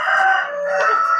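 A rooster in a colony breeder coop of 60 hens and 12 roosters lets out a loud, close, drawn-out crow, with no other sound around it.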